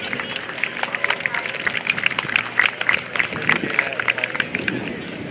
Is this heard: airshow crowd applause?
yes